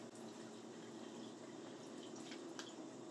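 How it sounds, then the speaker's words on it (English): Cold tap water runs steadily for rinsing stainless steel surfaces in a kitchen where raw goat milk is bottled, a constant close splashing wash with a few brighter drips. "I'm using cold water to clean my stainless steel surfaces."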